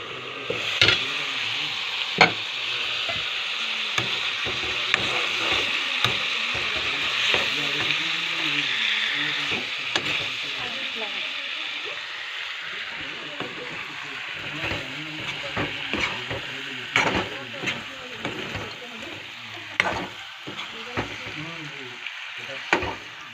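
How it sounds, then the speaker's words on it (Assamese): Potatoes cooking in a pan are stirred: a close, loud, continuous sizzle broken by scraping and knocking stirring strokes throughout. "এতিয়া মই আকৌ এবাৰ লৰাই দিছোঁ।"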